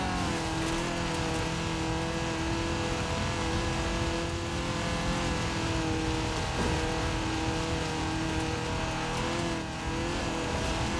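A stock 1980 Fiat 124 Sport Spider in Forza Horizon 4 drones steadily at close range, its engine note holding a sustained tone with a slight pitch dip midway, loud and continuous without any talk.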